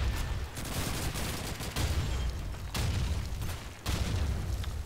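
Dense, continuous gunfire from a Call of Duty 2 multiplayer match, with Kar98k rifle shots mixed into a steady barrage of booming shots and explosions that fills the whole stretch, briefly easing before resuming.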